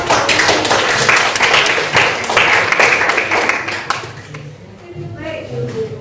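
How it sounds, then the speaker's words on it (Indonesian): Classroom applause for a student group after their presentation, several seconds of quick, fairly loud clapping from many pupils that thins out toward the end, with a teacher speaking over it. "Berikan tepuk tangan."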